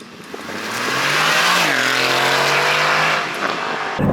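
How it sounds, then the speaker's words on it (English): A 2023 Aston Martin Vantage F1 Edition's exhaust roaring under hard acceleration, engine pitch climbing through a gear change and then holding a loud, close, sustained drone before easing off. "Oh, just hear that exhaust."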